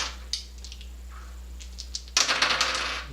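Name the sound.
rolling dice in a board game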